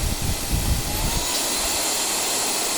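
Heifer cordless upright stick vacuum cleaner running at a higher suction setting, a steady close whooshing hiss of airflow with a brief low rumble at the start, no voices.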